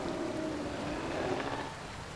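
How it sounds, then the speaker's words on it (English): A waterfall in the video game Jurassic World Evolution 3 rushes as a steady, broad wash of water noise, continuous and fairly soft in the background. "And you hear the waterfall in the background?"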